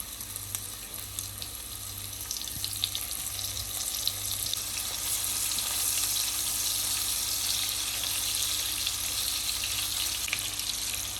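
Kebabs fry in hot oil, a steady close crackling sizzle with occasional pops and stirring, no voices.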